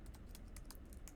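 Computer keyboard keys tapped while writing code, a quick run of soft clicks over steady low background hum, fairly faint and close.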